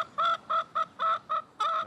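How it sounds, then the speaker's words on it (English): Several chickens clucking inside a compost bin, a run of short, evenly spaced clucks close to the listener, each one sharp and bright, with no other sound around them. "These silly chickens hopped up into my compost bin."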